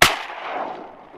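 A single close, loud shotgun blast fired while duck hunting over decoys in Florida, with a sharp report followed by a short reverberant tail that fades over about a second.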